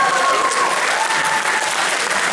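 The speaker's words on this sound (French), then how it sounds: "Oui, ça s'applaudit un truc pareil." A convention panel audience at TGS Ohanami 2012 claps and cheers in steady, dense applause throughout, loud and close, with faint voices mixed in.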